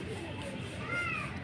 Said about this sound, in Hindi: ये मेरी बिल्ली है